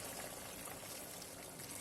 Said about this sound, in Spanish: Entonces vamos a echarle ya el agua.